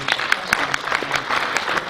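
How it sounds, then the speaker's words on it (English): An awards-ceremony audience at the World Teleport Awards claps in a sustained round of applause, with distinct individual claps standing out near the microphone and faint talk underneath. "You can please give them a round of applause"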